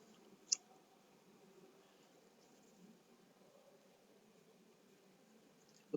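Two sharp computer mouse clicks, one early and one at the very end, quiet and close against a faint steady background hiss while editing an image on a computer.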